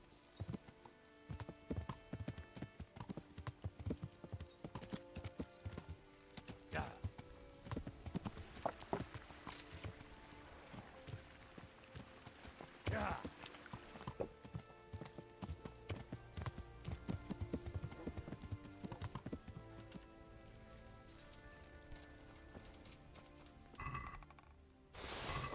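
Horse hooves clip-clop steadily throughout in the medieval video game Kingdom Come: Deliverance, with a continuous run of hoofbeats over background music and faint clinking.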